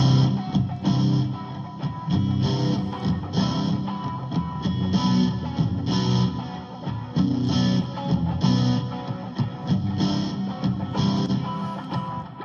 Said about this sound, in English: electric guitars all together sound like this again